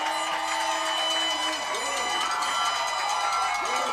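A stadium crowd cheers after a touchdown run in the 2017 Rising Stars ABC Border Bowl football game in Lethbridge, Alberta, a steady roar of voices with an announcer talking over it.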